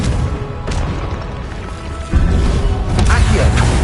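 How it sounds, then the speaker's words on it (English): Spell blasts in a Harry Potter video game on PS4 hit as sudden booming bursts, with a heavy impact at about two seconds and another near three, over a dense bed of game noise and voices. "Confringo!"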